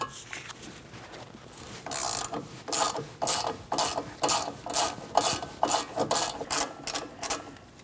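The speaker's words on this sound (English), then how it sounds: "We'll remove the first mounting bolt fully" A ratchet backs out a 13mm caliper bracket mounting bolt on the rear brakes of a 2004-2008 Pontiac Grand Prix. Rapid rasping clicks come in a regular series of strokes, close and distinct, growing steadier as the bolt loosens, with no one speaking.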